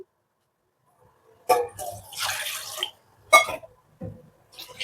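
Water is poured into a pot of tomato rasam in several short splashy bursts with quiet gaps between them, close and fairly soft.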